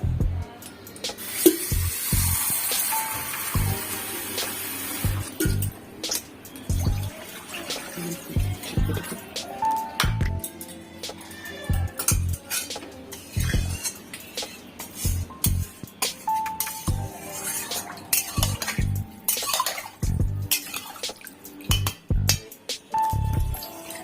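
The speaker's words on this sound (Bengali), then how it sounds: "এবার পরিমাণ মতন জল আমি এর মধ্যে দেবো" Water goes into a pot of Bengali mutton curry with potato and papaya, splashing and pouring intermittently between light metallic clinks of utensils, close and moderately loud, with no talking.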